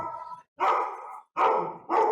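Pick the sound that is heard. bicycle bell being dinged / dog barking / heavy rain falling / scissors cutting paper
dog barking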